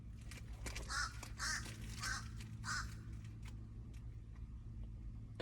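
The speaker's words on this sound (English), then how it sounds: "What the fuck is going on with this bird?" A crow caws several times in a regular series of harsh, fairly loud calls over a steady low hum, then the calls fade into background noise; no one speaks.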